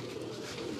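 Caged pigeons, including some striped birds, coo in a low, steady murmur that fills the whole short moment, with no talk over it.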